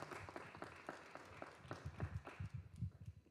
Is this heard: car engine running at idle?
no